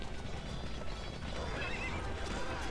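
Horses neighing and whinnying in the PC strategy game Cossacks 2: Battle for Europe, with hoof clip-clop over a dense, steady battlefield ambience.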